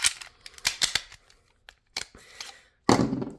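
Pistol rounds snapped one by one into a 17-round magazine fitted with a +2 base plate at a shooting range, a series of sharp close clicks in irregular bursts, with a louder rattling clunk near the end.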